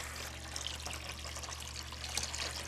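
Warm water is poured into a container in a steady, continuous trickling stream, close and fairly quiet, over a low background hum with no talking.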